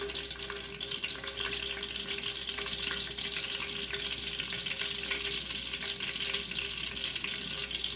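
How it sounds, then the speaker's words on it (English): Garlic fries alongside fish in a pan, a steady, quiet sizzle that holds evenly throughout with no talk over it. "So that's gonna fry it with my fish to give my fish a nice flavor."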